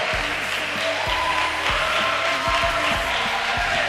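An audience at a quiz competition final applauds the competitors, a dense, steady wash of clapping from a crowd with faint rhythmic thumps underneath.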